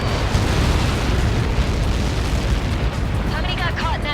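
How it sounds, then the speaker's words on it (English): In the Ace Combat 7 video game, a massive missile blast erupts as a loud, sustained roaring rumble that fills the scene, with faint radio chatter near the end. "How many got caught in that explosion?"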